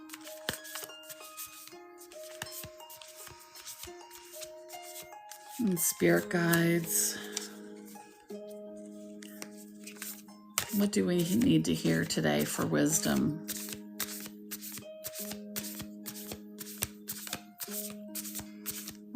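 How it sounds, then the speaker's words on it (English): Soft, repeated riffling and flicking of a deck of cards shuffled slowly for a reading, close, with a person talking over parts of it. "I'm very slowly going to shuffle"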